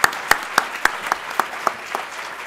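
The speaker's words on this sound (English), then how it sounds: "Let's give it a round of applause for their founders and chairs" An audience claps for the founders and chairs at a tenth-anniversary event, a short burst of loud, rhythmic, evenly spaced claps close by.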